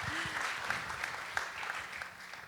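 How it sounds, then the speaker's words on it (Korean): Audience at a Korean church lecture applauding a young singer-songwriter guest, a brief, soft patter of clapping in a hall, with a low voice murmuring at the start. "박수 한번 부탁드립니다"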